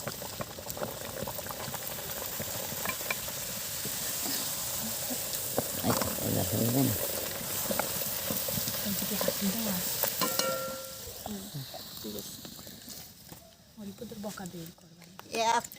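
Luchi puffing in hot oil, a dense, continuous bubbling sizzle with stirring noises, while voices talk over the frying.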